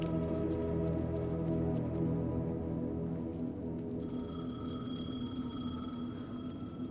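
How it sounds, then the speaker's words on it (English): A payphone rings in the video game Alan Wake 2, a thin electronic ringing tone layered over a dense, droning game soundscape that continues throughout without speech. "เดี๋ยวเรารับโทรศัพท์"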